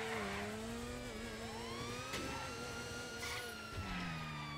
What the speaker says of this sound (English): Oh, listen, we've got another cop car.